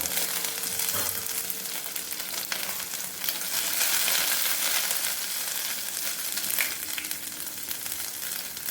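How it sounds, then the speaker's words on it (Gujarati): Curry leaves, cinnamon, cloves and chili paste sizzle and crackle steadily in hot oil, a dense close frying hiss with occasional stirring clicks. "ત્યારબાદ લીમડો, તજ અને લવિંગ, અને મરચાંની પેસ્ટ નાખીશું."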